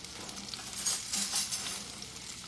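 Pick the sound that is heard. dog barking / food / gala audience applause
food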